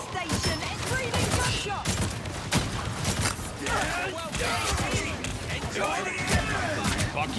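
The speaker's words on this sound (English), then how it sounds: "gunshot." Video game gunfire crackling in rapid bursts and volleys, fairly loud and dense, with a voice talking over much of it.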